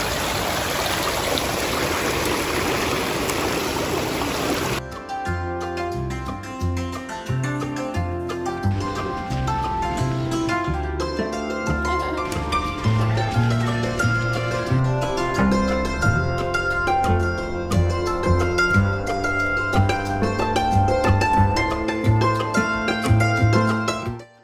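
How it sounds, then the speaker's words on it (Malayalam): Rushing water at Marmala waterfall during the rainy season, a steady broadband roar for the first few seconds, then masked by loud instrumental music for the rest. "മാർമലയുടെ വെള്ളച്ചാട്ടത്തിന്റെ ശബ്ദം കേട്ട് നമുക്ക് മുന്നോട്ട് പോകാം."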